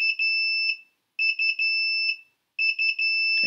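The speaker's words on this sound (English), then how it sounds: "it went into alarm, because you remember I had the alarm status set" An Inkbird ITC-308 WiFi temperature controller sounds its alarm, a loud, clear electronic beeping in three bursts of rapid pulses with short silent gaps between them.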